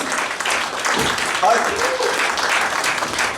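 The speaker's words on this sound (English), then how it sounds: "Manual applause" Audience clapping at a poetry slam, a sustained wash of many hands at moderate loudness, with murmured voices and a brief whoop mixed in.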